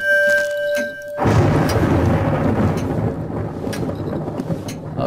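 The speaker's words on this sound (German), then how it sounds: "Aber der Sturm wird stärker." Thunderstorm in the horror game White Night: a steady tonal hum gives way at about one second to a loud, close rumble of thunder and rain that rolls on continuously to the end, with no talking.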